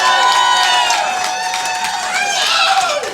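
Crowd at a comedy show breaking into applause and cheering, loud and close, with a dense wash of clapping, whoops and shouts that holds steady for about three seconds before easing off.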